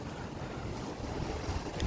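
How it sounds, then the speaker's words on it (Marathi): Ocean waves at Devgad beach on the Arabian Sea coast, a steady, wide wash of surf mixed with heavy wind noise against the microphone, continuous with no talk. "हा बघा देवगड बीच"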